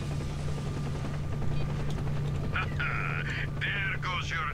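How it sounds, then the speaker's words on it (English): A military helicopter in the S.T.A.L.K.E.R. Shadow of Chernobyl video game drones continuously with a low rotor hum, while a voice speaks over the later part. "The military chopper is coming to blow you to pieces."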